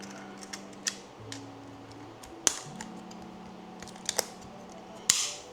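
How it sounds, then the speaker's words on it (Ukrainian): A DJI Osmo Action 5 Pro camera pushed into its snug-fitting case, producing a few sharp plastic clicks and snaps, close and separated by short pauses over a faint steady hum. "І вставляємо саму камеру в цей кейс."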